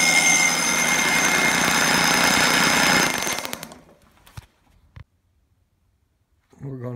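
A Johnson 60 outboard engine with a recently replaced starter runs loud and steady for about three seconds, then winds down into near silence broken by a couple of sharp clicks, before a voice starts speaking.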